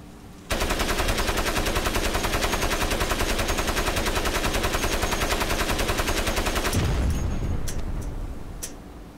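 Cannon fire in the Crysis video game: a rapid, evenly spaced burst of loud automatic shots runs for about six seconds, then cuts off into a booming echo that fades away.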